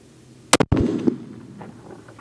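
Gunshots fired at a long-range target, with two sharp close reports in quick succession followed by a rolling echo that fades over the next second or so.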